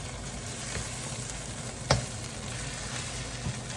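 An egg fries in a pan with a steady, soft sizzle and crackle, joined by a single sharp scrape or clack of a utensil as it is turned, then a lighter tap near the end.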